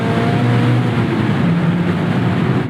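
Steady engine drone from a 2024 Mazda MX-5 Miata Club BBR during a heel-toe downshift with a throttle blip while canyon driving, loud and continuous with little change in pitch and no talk over it.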